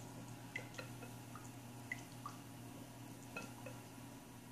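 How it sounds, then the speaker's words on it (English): Eggs and buttermilk being whisked for Irish soda bread, heard as soft wet taps and small drips of the whisk against the bowl, close and quiet with no talking. "So we're going to whisk our eggs and buttermilk."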